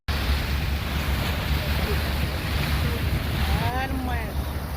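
A boat moves over the open sea, with heavy wind buffeting the microphone over a low engine-like rumble and wash of water, steady and close throughout.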